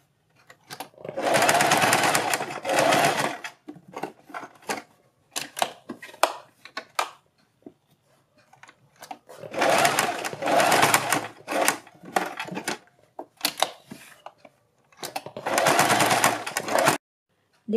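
A sewing machine stitches a fabric strip in three loud, steady rapid bursts, close up, separated by quieter handling clicks and pauses.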